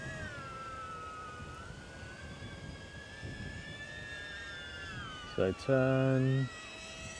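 DJI Neo drone flying in manual acro mode, a thin whine that rises and falls in pitch as it maneuvers, with a person talking over it and a short electronic tone near the end.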